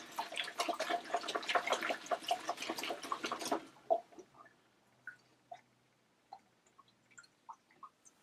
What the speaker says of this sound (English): I'm actually going to squeeze my bottle a little and spin till I can see my bubbles start spinning